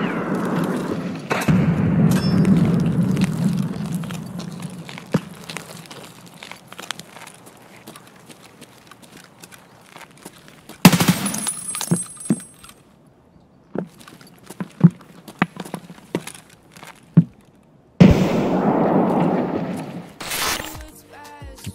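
A grenade explodes in the video game Escape From Tarkov: two loud, sudden blasts with rumbling tails stand out amid quieter footsteps, thuds and gear rattling.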